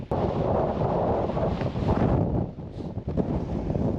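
Strong gusts of 40 mph-plus wind buffet a tent at a wild campsite in Wales, a loud continuous roar and rumble on the microphone that surges and briefly eases.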